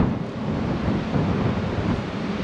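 Strong wind buffets the microphone at a coastal fort on the bay, a steady loud roar of gusts with surf mixed in, no voices.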